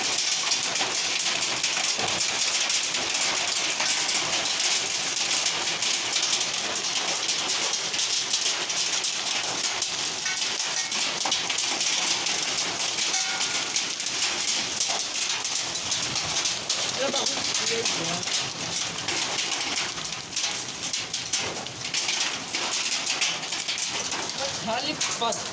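Hailstones hammer down on a thatched roof during a severe storm, a dense, continuous patter and rattle of impacts with steady rain filling the background throughout.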